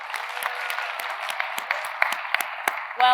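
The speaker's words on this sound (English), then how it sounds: "Give them a great round of applause." An awards-night audience at the Raiders Choice Awards gives a round of applause, moderately loud and steady with scattered sharper claps, before a voice cuts in at the very end.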